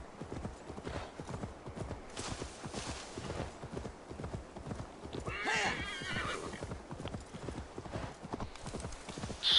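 Steady clip-clop of hooves at a quick gallop in Assassin's Creed Valhalla, with a horse whinnying loudly partway through; game-like outdoor ambience underneath.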